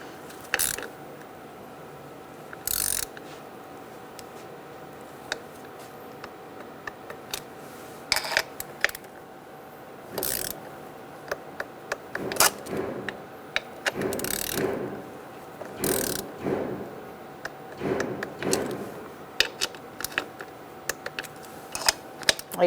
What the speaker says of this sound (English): Alright, so now we're going to torque this down.